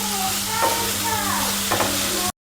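Salted potatoes fry in a pan for a spicy aloo sabzi, giving a steady close sizzle with a couple of scraping stirs through it.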